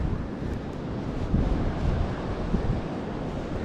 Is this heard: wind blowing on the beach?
yes